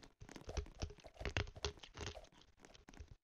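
Crunchy, crinkling chewing of Toxic Waste extra-sour candy, close to the mouth, a run of irregular bites and squishes lasting a few seconds with brief pauses.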